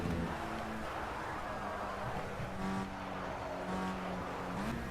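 A Formula Rookie race car in a racing video game drones down a straight, its engine a steady, loud whine with pitch that climbs and shifts as gears change, alone without talk.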